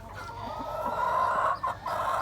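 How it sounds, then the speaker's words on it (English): Silver duckwing Araucana chickens cluck in a soft, continuous murmur, a close flock chattering steadily without pause. "This here are the silver Aracanas, silver duckwing actually."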